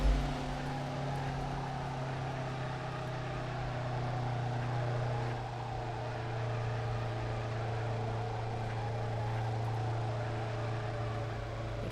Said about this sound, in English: Those are my wheels making that noise.